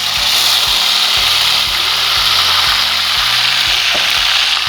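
Tomato, coriander, onion and green chilli paste sizzles steadily in a hot pan, a loud continuous hiss under a low, even background hum.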